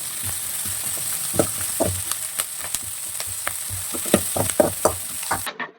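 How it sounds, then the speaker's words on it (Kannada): Garlic and ginger fry in a pan for a Mangalore-style patrode masala, giving a steady close sizzle broken by frequent sharp scrapes and clicks of stirring, with no talking. "ಸೊ ಇವಾಗ ಬೆಳ್ಳುಳ್ಳಿ ಮತ್ತು ಶುಂಠಿ ಇದೆರಡನ್ನು ಹಾಕ್ಬಿಟ್ಟು ಇದ್ರ ಜೊತೆಗೆ ಹಸಿ ವಾಸನೆ ಹೋಗೋದಕ್ಕೆ ಫ್ರೈ ಮಾಡ್ತಾ ಇದ್ದೀನಿ."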